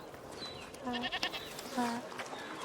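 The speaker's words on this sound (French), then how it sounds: "T'es une gentille chèvre, Lucinda." A goat bleats twice in the video game A Plague Tale: Requiem, with clear, wavering calls close by over soft background ambience and faint voices.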